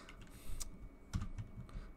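Computer keyboard typing heard up close in a few quick bursts of clacking keystrokes, moderately loud over a low background rumble.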